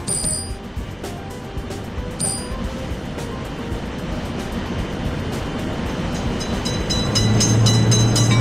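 In an Indian railway crossing-gate game, a train passes the road crossing with a continuous, dense rumble and rolling noise that builds slightly toward the end, and a low tonal hum enters near the close.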